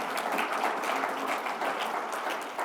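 Audience at a renewable energy summit in Wisconsin breaks into steady applause, a dense, moderately loud wash of clapping from a seated crowd.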